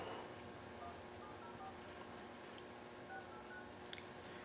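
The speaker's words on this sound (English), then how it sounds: "let's make a phone call here." Faint phone dialing tones come through a quiet, hissy background, a handful of brief beeps scattered across a few seconds.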